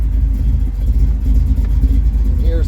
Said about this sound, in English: The engine sounds better to me.